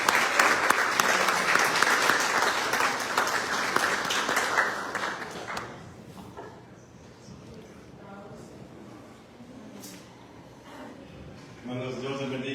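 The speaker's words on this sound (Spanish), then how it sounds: "Nuestro hermano Ken, si podemos recibirlo con un fuerte aplauso también." A church audience breaks into loud applause welcoming a guest speaker, a dense burst of clapping that fades after about five seconds into quieter room sound with some talk.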